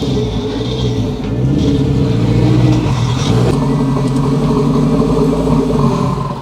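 A stock Honda NSX engine revs hard and repeatedly nearby, its pitch climbing and falling in loud bursts over a steady rumble.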